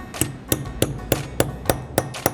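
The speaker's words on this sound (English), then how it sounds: "Position the letter where you want it. Take and then hammer. hammer it in." Hammer striking a metal letter stamp, eight sharp evenly spaced metallic taps, close and clear with nothing else over them.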